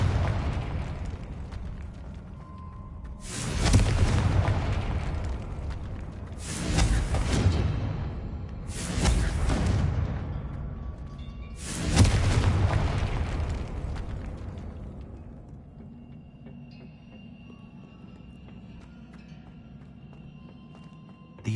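Confringo spell explosions in the game Hogwarts Legacy: four heavy booming blasts a few seconds apart, each with a long rumbling decay, fading into a quieter low rumble.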